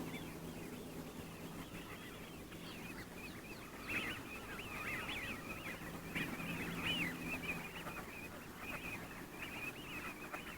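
Mallard ducks call across winter washland in Britain, with faint, distant quacking scattered over steady wind and background noise.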